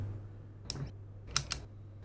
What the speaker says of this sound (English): we're getting some nice clicking sounds